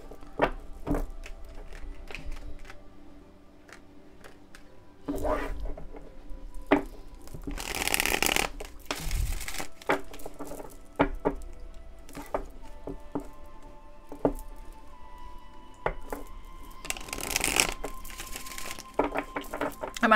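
Tarot cards are shuffled in several bursts of riffling and flapping, separated by quieter stretches with scattered light taps and handling noises.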